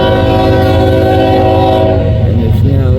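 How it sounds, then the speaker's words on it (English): A freight train heading east after a crew change, somewhere in Nebraska or Iowa, sounds a loud, close, sustained horn over heavy rumbling and rail noise. "This train came in,"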